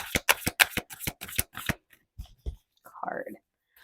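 Tarot cards riffled and shuffled in quick crisp bursts, followed by a few softer slides and taps as cards are handled, with a voice speaking near the end.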